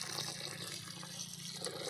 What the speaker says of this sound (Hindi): हल्का पानी मिसाइबे